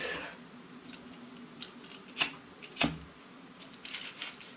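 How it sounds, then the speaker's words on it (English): A few quiet snips of scissors cutting excess yarn from jumbo braids, with two sharper cuts standing out over a faint background hiss. "take a scissors and just cut the excess"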